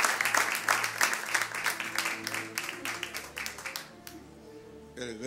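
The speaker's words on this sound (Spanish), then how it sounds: "Le damos un aplauso a él, mi hermano." A church congregation at a devotional service gives a round of clapping with distinct rhythmic claps, fading out after about four seconds while voices and music continue underneath.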